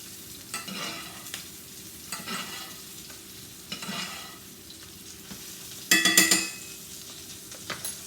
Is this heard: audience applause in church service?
no